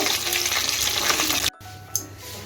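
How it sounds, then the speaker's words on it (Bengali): Pabda fish fry in hot oil with a steady, loud sizzle that stops abruptly partway, then a quieter pan hiss continues with a brief clatter. "বাকি মাছগুলো আমি একইভাবে ভেজে নেব"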